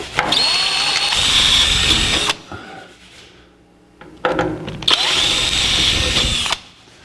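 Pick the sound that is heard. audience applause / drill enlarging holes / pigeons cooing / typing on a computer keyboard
drill enlarging holes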